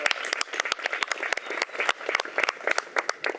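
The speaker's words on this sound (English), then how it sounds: "actually applaud the graduates out loud for what you've accomplished" Steady applause from a crowd at a university graduation ceremony honoring the graduates, a dense patter of many hands clapping continuously at moderate volume, with no talking.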